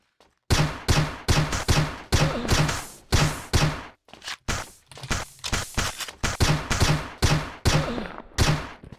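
Gunfire in the PC video game Overdose WW2, rapid regular bursts of loud shots hammering away in a steady rhythm through nearly the whole stretch, with a short pause midway.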